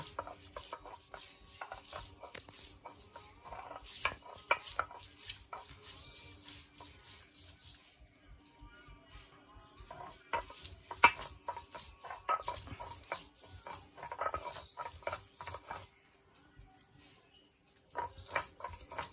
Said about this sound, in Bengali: এবার শিলনোড়ায় বাটা হচ্ছে